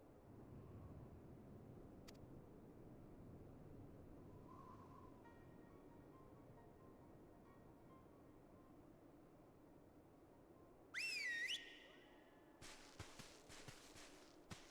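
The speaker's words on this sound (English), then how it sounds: "Yugiri can whistle." Yugiri whistling in Final Fantasy XIV, a short rising and falling whistle near the end, over faint ambient hiss and followed by light clatter.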